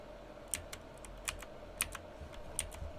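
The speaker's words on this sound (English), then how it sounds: "typewriter" Faint mechanical key clicks from a typewriter in the video game Resident Evil 4 Remake, a handful of sharp taps spaced unevenly over a low steady background hum.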